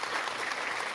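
Brief burst of applause, a dense, even patter of many clapping hands filling the whole moment without pause.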